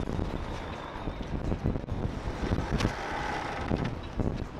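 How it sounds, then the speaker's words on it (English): Strong outdoor wind buffets a camera microphone, producing a constant low rumbling roar with gusty surges and no speech. "It's really windy"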